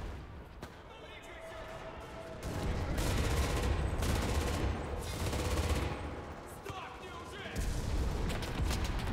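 Machine gun fire in the World War II shooter Enlisted comes in several rapid bursts with short pauses between them, loud and close, with someone talking over and between the volleys.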